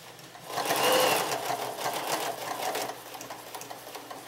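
A sewing machine runs a short burst of stitching on pajama bottoms, rising to a steady whir and then continuing at a slightly lower, even level, close and clear with no talk.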